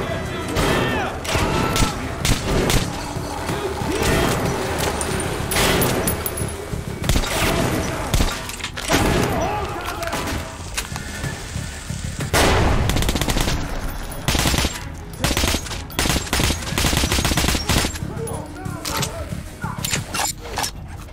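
Dense gunfire in Metro: Last Light, loud close bursts of automatic and single shots with thuds and impacts, continuous for the whole stretch with no speech.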